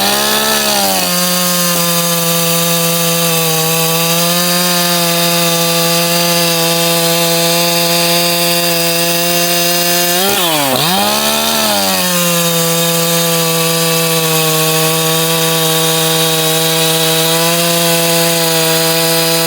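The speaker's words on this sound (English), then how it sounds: "Echo CS 4910, ported cylinder head, ported muffler, a modified intake boot" A modified Echo CS 4910 50cc chainsaw with ported cylinder head, ported muffler, modified intake boot and retuned carb screams at steady high revs while cutting wood, dipping briefly midway before returning to full speed, loud and close.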